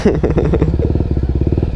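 A Kawasaki NK250 motorcycle fitted with an Akrapovic exhaust idles close by in a parking lot. The engine gives a loud, steady, rapid thumping burble with a quick blip of the throttle at the start.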